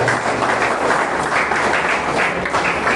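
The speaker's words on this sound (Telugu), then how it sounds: "ఒకసారి చప్పట్ల కొట్టి ఈ టీంని మనం అభినందించాలి" An audience applauds the team at an iftar gathering for media representatives, held by the Jamaat-e-Islami Hind branch in Vizianagaram. The clapping is dense and sustained, steady and fairly loud throughout, with no break.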